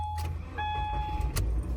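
A 2017 Subaru Crosstrek with manual transmission starts up, a high whining starter tone followed by the engine catching and settling into a steady low idle rumble nearby, with a couple of brief clicks and no talking.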